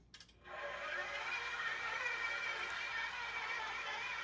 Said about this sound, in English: if you got a stand mixer, might as well use it